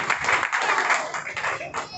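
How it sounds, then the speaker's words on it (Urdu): A church congregation claps their hands during a healing service, a dense roomful of applause-like clapping lasting a couple of seconds with a voice faintly underneath. "زوردار اپنے لیے تالیاں بجائیں"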